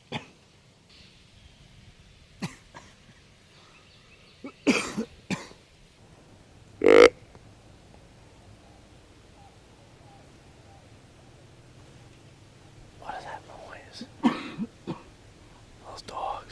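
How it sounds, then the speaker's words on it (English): A cameraman on a deer hunt coughs several times in short bursts, close to the microphone, with whispering and quiet stretches in between. "And I got a coughing cameraman."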